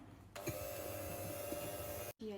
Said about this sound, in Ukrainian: Я змішую яйця з ванільним цукром, з цукром. Збиваю це все до білої маси